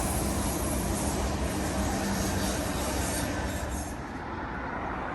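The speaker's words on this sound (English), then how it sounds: "there's a train going over the bridge." Train rumbling steadily across a rail bridge, heard close and loud with a continuous broadband roar and rattling wagons, easing slightly toward the end, no speech.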